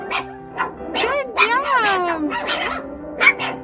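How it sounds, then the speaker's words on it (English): Multigen Mini Goldendoodle puppies outdoors yip and bark in quick, high-pitched bursts mixed with whiny howls, close and loud, with a person talking among them. "I love it when they get something new like this, they start the barking."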